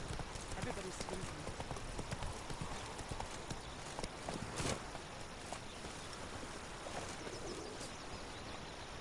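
Hooves pound steadily as Geralt's horse Roach gallops in The Witcher 3: Wild Hunt. The rhythm is close and continuous over busy ambient game sound, with voices talking in the background.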